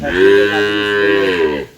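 A single loud, close cow moo, drawn out for over a second before trailing off.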